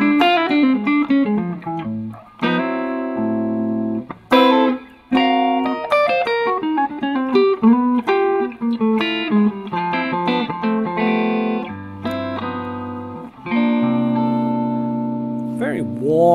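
A hollow-body electric guitar with a little distortion plays a melodic run of bright, sustained notes and chords with a warm tone and long sustain, close and clear.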